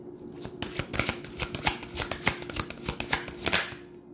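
Tarot cards being shuffled by hand close up, a rapid run of crisp riffling flicks and slaps in an uneven rhythm, alone without talk.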